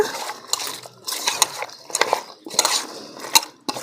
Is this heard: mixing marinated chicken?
yes